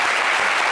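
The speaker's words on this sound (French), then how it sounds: "il faut applaudir le cinéma ivoirien" Audience applause on a television talk show set, a dense, steady wash of clapping that fills the whole brief moment at an even level.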